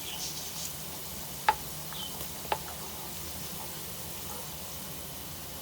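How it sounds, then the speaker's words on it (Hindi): Thin slices of pasanday meat go into a pan of onions frying with garam masala: a faint, steady sizzle with two sharp clicks as the pieces drop in. "अब हम थोड़े थोड़े पसंदे इसमें शामिल कर देते हैं।"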